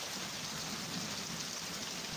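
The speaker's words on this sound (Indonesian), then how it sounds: "Di tengah gemericik air hujan," Rain falls steadily in a rural village, a soft continuous pattering hiss without any distinct drops standing out, faint and even throughout with no voices.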